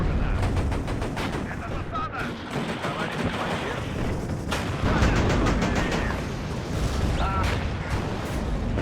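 Tank cannon fire and other weapons in the Cold War strategy game WARNO, with T-64 and BMP-2 armor in a large engagement: dense, continuous bursts and repeated booms layered over one another.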